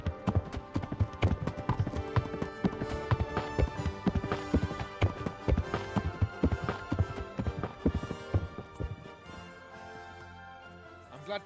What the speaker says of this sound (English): That's really heavy hoofs.